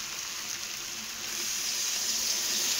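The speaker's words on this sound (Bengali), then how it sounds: "তো চলো এবার জল দিয়ে দেবো" Water poured into a simmering flour-and-paneer curry in a pan, a steady broadband hiss and splash that grows slightly louder partway through, with no voices.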